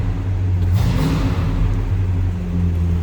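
A 1967 Pontiac LeMans V8 rumbles at high idle while warming up just after a cold start, a steady close engine drone with a brief swell early on.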